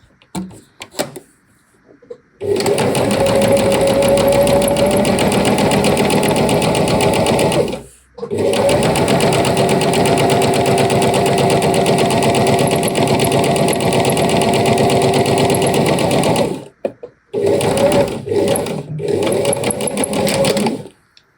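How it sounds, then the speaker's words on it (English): A domestic sewing machine edge stitching ironed fabric pieces for a hydrangea flower project, running in long steady bursts close up with brief pauses between runs and faint handling sounds in the gaps. "it's just now a matter of edge stitching"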